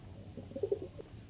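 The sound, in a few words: pigeon cooing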